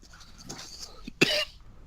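A single sharp cough near the end, preceded by soft breathy throat sounds; quiet surroundings.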